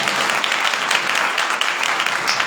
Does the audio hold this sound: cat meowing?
no